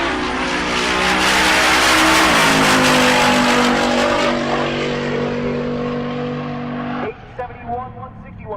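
Steve Willingham's Grand National drag car roars loud and close down the strip during a Rocky Mountain Race Week pass, holding a sustained engine howl for about seven seconds before it cuts abruptly to fading, sputtering engine noise.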